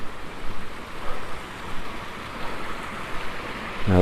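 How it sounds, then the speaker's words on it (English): A small waterfall at a lake inlet makes a continuous soft rushing and splashing, steady and moderately faint from a short distance, with no voices over it. "Another little inlet here with a nice little waterfall"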